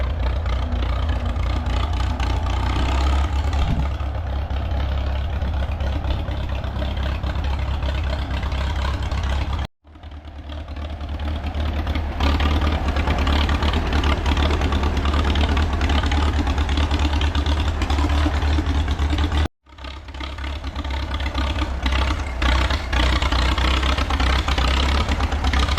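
A 1937 Farmall F20 tractor engine runs steadily and loudly up close, a continuous low rumble broken by two brief cutouts before it picks back up.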